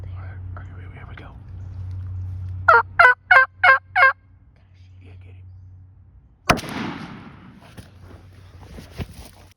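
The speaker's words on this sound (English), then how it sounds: "Lots of gobbling on the ground" Wild turkeys gobble on the ground during a spring hunt: a rapid burst of five loud, close gobbles, with low whispering beneath, followed by a sharp crack and softer rustling.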